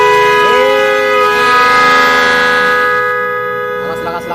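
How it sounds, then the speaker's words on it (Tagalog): A magic horn fitted to a motorcycle blares a loud, sustained multi-tone wail for about four seconds, its pitch sliding up at the start, then holding steady and fading toward the end, with no talk over it. "Busina."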